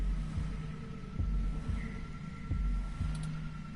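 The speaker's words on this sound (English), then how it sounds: "So I can hear my own heartbeat." Heartbeat sound effect from the game 2064, a steady double-thump pulse repeating about once a second, low and throbbing over a faint hum, with no talk.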